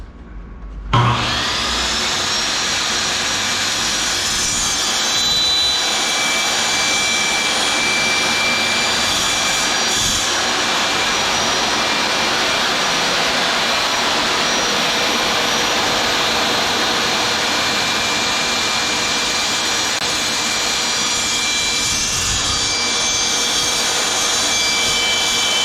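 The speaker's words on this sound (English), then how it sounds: "I gotta cut this distance pretty well for this to be straight" Power saw cutting rigid core vinyl oak plank flooring freehand: a loud, steady high-pitched whine that spins up abruptly and holds for over twenty seconds with little variation, close and alone.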